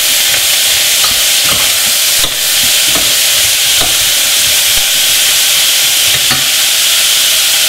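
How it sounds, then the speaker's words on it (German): Food fries in a pan for a teriyaki sauce, a loud, constant hiss of sizzling with faint, irregular clicks of stirring underneath, up close throughout. "Und braten das Ganze etwas an."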